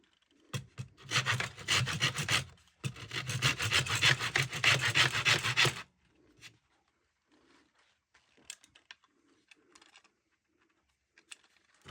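A hand saw cuts wood while a lyre soundboard is inset, in two bursts of rapid rasping strokes separated by a short pause, followed by quiet, scattered small knocks and handling noises.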